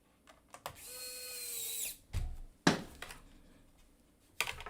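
A small power driver whirs briefly as it tightens laptop screws, between quiet clicks and knocks, faint and close with no talk.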